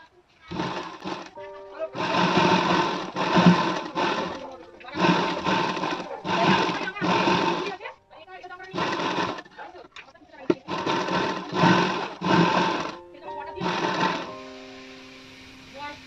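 A sewing machine stitches a princess-cut blouse in repeated bursts of rapid mechanical whirring, each lasting a second or two with short gaps between, loud and close.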